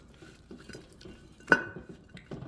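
Garlic powder being stirred into turkey in a slow cooker, giving soft scraping and clinking of a utensil against the pot, with one sharper knock midway; quiet and close, with no talking.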